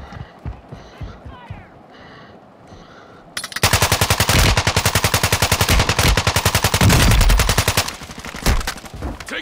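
Video game gunfire erupts midway as a loud, rapid automatic burst of evenly spaced shots lasting several seconds, following quieter footsteps and a faint voice beforehand.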